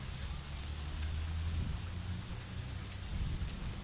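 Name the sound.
light rain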